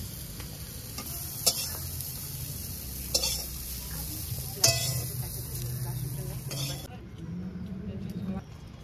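Broccoli fries in a pan with a steady hiss while a utensil stirs it, giving a few sharp scraping clinks against the metal; the sizzle drops away near the end.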